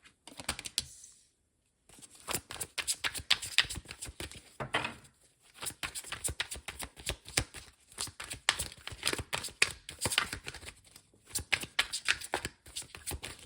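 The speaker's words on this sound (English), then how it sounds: "I think it's better if I shuffle on camera" Tarot cards shuffled repeatedly at close range, a dense run of crisp riffling and flicking bursts with a couple of short pauses between rounds.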